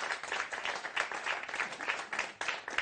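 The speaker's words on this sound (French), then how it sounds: "On peut encore l'applaudir vraiment" A studio audience applauds a guest on a French talk show, a dense, continuous round of clapping at moderate distance with no talk over it.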